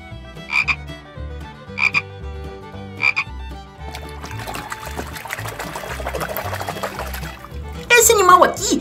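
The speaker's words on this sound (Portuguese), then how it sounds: "Esse animal aqui é o sapo." A toy frog figure's recorded croak repeats in three short, evenly spaced bursts, then gives way to a steady wet, trickling mud-and-water sound and a sharp final splash, with a voice speaking over the scene.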